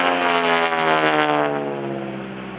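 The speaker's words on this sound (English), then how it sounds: "that's why you hear that beautiful sound and that low throaty rumble. That's the radial engine up front. 9-cylinder, 600 horsepower." An aerobatic airshow plane with a 600-horsepower nine-cylinder radial engine drones loudly overhead with a low, throaty, harmonic rumble that slowly fades as it pulls away.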